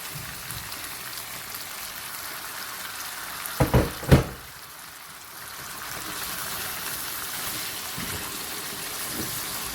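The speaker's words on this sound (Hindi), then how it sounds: "थोड़ा थोड़ा सा इसमें हल्का हल्का सा पानी डालते जाएं ताकि अच्छी तरह से अंदर से ये पक जाए।" Chicken Afghani malai karahi frying in a pan as small amounts of water are added, giving a steady hiss and sizzle with a few sharp splashy bursts midway, close up and without talk.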